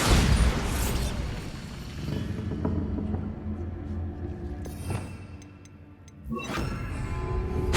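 A Bombarda spell detonates in Hogwarts Legacy with an opening booming crash that rumbles away, followed by scattered clicks and ticks of falling debris, then a second loud burst near the end.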